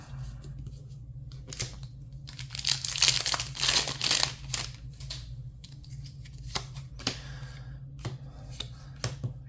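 Foil wrapper of a trading card booster pack being torn open and crinkled, close up, a burst of crackling plastic over a steady low hum, then scattered light clicks and rustles.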